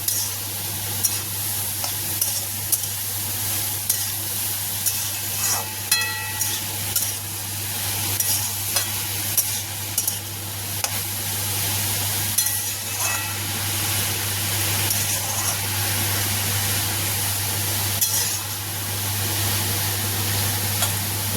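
Turmeric and salt stirred into banana stem frying in a pan: steady sizzling under repeated rhythmic scrapes and taps of a spatula against the pan, close and continuous.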